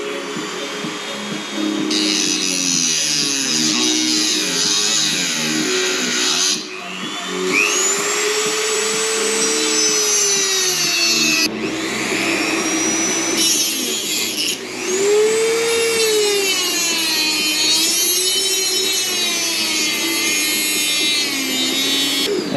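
A power steering hose being cut off in the engine bay of a 3RZ-engined vehicle, a steady loud mechanical whine with sweeping tonal shifts, continuous throughout with no talk.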